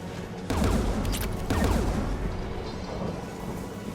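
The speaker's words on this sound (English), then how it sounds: "Let's go shut that AA gun off." A Geth anti-aircraft gun in Mass Effect 3 fires two heavy, booming blasts about a second apart, each trailing into a distant rumble, with a fainter shot later.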